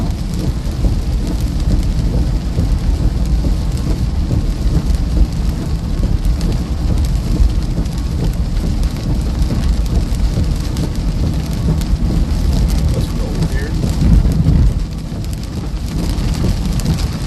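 Heavy rain pours steadily during a strong thunderstorm with frequent lightning in southwest Iowa, a dense, loud wash of rainfall with deep thunder rumbling low underneath throughout.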